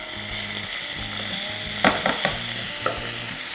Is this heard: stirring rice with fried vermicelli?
yes